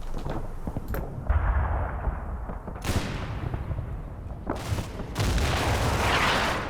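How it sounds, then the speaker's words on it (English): In the video game Combat Mission: Battle for Normandy, artillery shells land in several heavy booms spread over a few seconds, each with a sharp crack and a rumbling tail, with gunfire scattered between them. "Oh, it's artillery."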